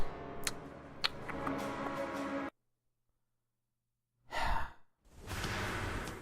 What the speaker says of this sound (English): Sorry for breathing directly into the microphone there